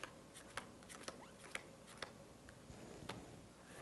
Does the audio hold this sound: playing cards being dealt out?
yes